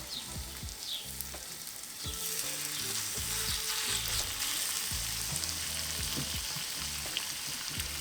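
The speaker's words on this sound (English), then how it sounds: "we're going to go on with the chicken thighs skin side down, just to try and get a bit of colour on them" Chicken thighs sear skin side down in hot oil in a cast iron pan on a Weber kettle grill, giving a loud, steady, close sizzle throughout, with low tonal music underneath.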